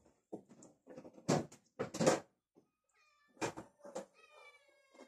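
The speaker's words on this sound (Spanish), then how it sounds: "El gato quiere comer." A cat meows several times in short, distinct calls, fairly close, with brief pauses between them in an otherwise quiet room.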